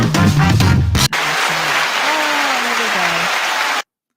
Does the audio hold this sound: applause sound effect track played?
yes